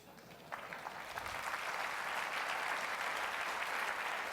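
Keynote audience applauding a leadership talk, a dense wash of many hands that swells after half a second and holds steady and fairly loud.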